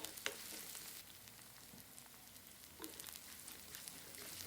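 Medium-sized onion sautéing in a pan as part of a leftover idli and egg breakfast dish, giving a steady, close sizzle with faint crackles and occasional stirring scrapes, no voices.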